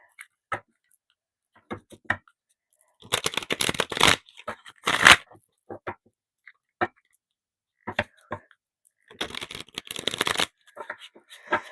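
A deck of reading cards is shuffled in a few short bursts of riffling flutter, separated by quiet gaps with scattered light taps and card handling, close and fairly clear, with no talk.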